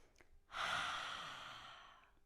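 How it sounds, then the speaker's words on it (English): A single long, deep breath taken during a Prana Yoga practice in victory pose, a steady close airy exhale lasting nearly two seconds and slowly fading, heard alone. "Continue to breathe."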